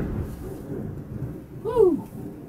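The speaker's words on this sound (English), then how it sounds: "we seem to have a bit of a thunderstorm over here right now in Wales" Thunder from a thunderstorm in Wales rumbles low and steady, swelling briefly near the end with a brighter crack-like burst.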